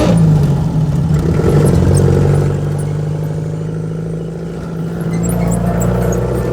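A car's engine runs with a steady, fairly loud mid-pitched hum and light clatter as the vehicle pulls away, the sound easing slightly midway and then building again, with no voices.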